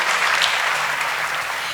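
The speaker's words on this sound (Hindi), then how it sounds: "जोरदार तालियां" Loud, dense applause from an audience at a Hindi poetry recital honouring soldiers, a steady wash of clapping lasting under two seconds with no voices over it.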